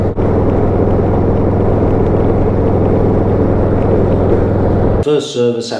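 A Harley-Davidson Road Glide ST motorcycle cruises on a highway, a loud continuous engine drone with wind rush held evenly, ending abruptly as a voice speaks in the last second.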